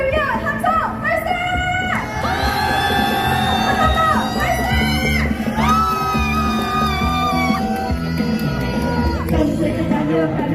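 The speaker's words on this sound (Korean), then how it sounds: "자주 독립을 위한 함성 발사!" Protesters at a candlelight rally outside a party office in Daegu raise a loud collective shout and whoops over amplified music, voices rising and falling across ten seconds.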